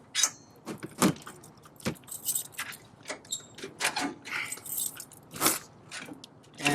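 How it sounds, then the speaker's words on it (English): Metallic clicks and jangles sound close up as the hitch pin on an Airstream trailer hitch is unlocked, in a series of short irregular taps and rattles with brief pauses between them. "Unlock this hitch pin."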